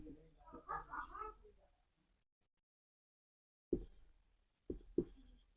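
A pen or chalk scratches out a chemical name by hand in a quiet room, a few short sharp strokes after a brief burst of speech and a pause.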